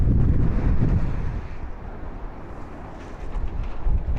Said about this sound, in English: Oh, can you hear that wind?